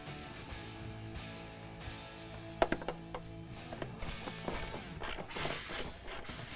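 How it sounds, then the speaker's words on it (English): An 8mm socket ratchet with extension loosening an intake bolt on a 2020-2025 Ford 6.7L Powerstroke truck, quiet rapid clicking of the pawl in short bursts, close by with some faint mechanical clatter. "Using an 8mm socket and extender, you're going to want to take out that bolt that's securing the intake to the front grille."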